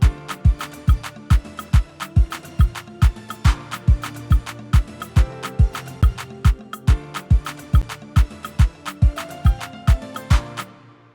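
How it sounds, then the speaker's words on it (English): Afrobeat woro groove programmed in FL Studio, with steady punchy drums and a sharp clap driving a fast, even rhythm under looping melodic parts, loud and continuous with no voices. "So this is how it sounds with a clap."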